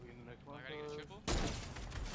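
A single sharp sniper rifle crack in a first-person shooter video game, loud and sudden after a stretch of game sounds, followed by a noisy burst of reverberant gunfire and action that continues to the end.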